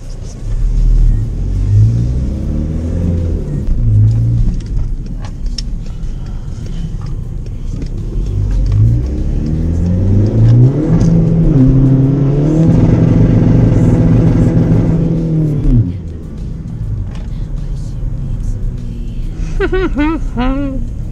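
A Skoda Fabia 1.9 TDI diesel with a stage 2 tune accelerates hard from inside the car, its loud engine note climbing through the gears in long rising sweeps before easing off near the end.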